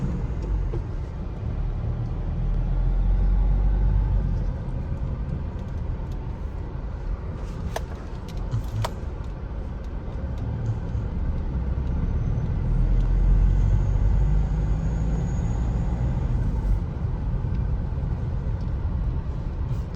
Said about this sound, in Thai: เดี๋ยวมาลองขับกันนะครับผม ตามด้วยเกียร์หนึ่งครับ รอบปกติครับ